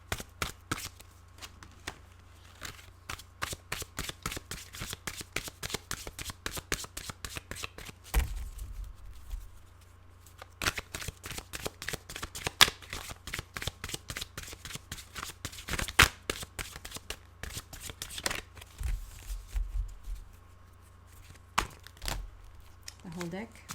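A deck of tarot cards is shuffled by hand in repeated bursts of quick riffling flicks separated by short pauses, close and fairly quiet, with a few faint low thumps.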